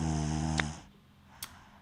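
A single snore from a sleeping teacher character in a Scary Teacher knockoff video game, a loud droning inhale that cuts off abruptly, followed by quiet with a faint click.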